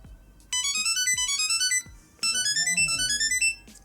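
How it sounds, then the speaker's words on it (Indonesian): A Samsung SmartTag tracker set to high volume plays two bursts of a bright, rapid electronic ringtone melody, each about a second and a half long, with a short gap between them. A faint voice is heard briefly under the second burst. "Ringtone-nya banyak banget, ada 1, 2, 7, 10."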